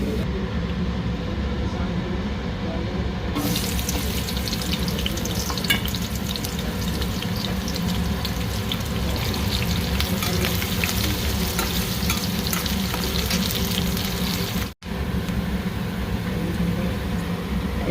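Cumin and spice paste fry loudly in hot oil, a dense, continuous close sizzle with occasional stirring noises.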